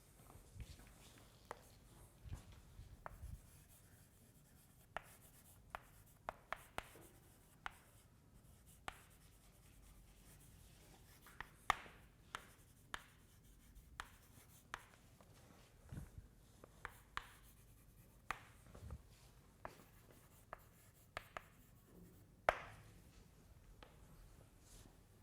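Chalk or marker tapping and scratching on a board during a physics lecture on relativistic kinematics, a faint, irregular run of short strokes and clicks in a quiet room, with scarcely any voice.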